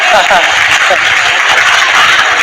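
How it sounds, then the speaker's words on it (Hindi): Steady applause from a gathered audience at a devotional bhajan session, dense and continuous throughout, with speech blended into the clapping. "इसलिए इसने बहुत बढ़िया ताली बजाई"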